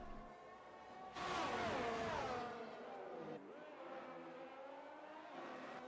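A race car engine in a racing game around Paul Ricard surges as throttle is applied, a loud rising whine with harmonic overtones that dips sharply and then holds a steady drone under faint commentary.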